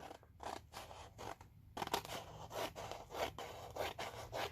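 Paper being cut at an angle along a scoring line, a steady close rasping, scraping sound with rhythmic strokes continuing throughout, quiet and alone.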